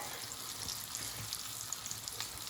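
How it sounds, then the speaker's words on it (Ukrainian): Crucian carp fry in a little oil, giving a steady, close crackling sizzle with fine spitting pops throughout, unbroken by talk. "щоб гарненько вони посмажились. І в олійці нехай ось так, нехай ось так готується"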